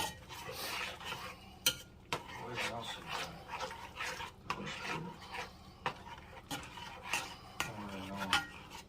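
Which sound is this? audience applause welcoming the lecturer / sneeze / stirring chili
stirring chili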